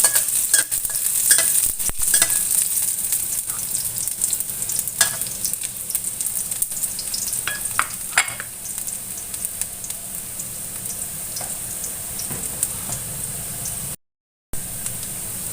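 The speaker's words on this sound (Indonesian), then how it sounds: "Tumis sampai mengeluarkan aroma yang harum." Garlic stir-frying in a pan for a clear spinach soup, a steady hissing sizzle with scattered small pops and occasional stirring scrapes, close and moderately quiet, with no voices.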